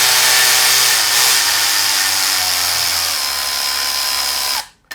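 A Milwaukee Insider power ratchet whirs loudly and steadily at close range for several seconds, then cuts off abruptly near the end.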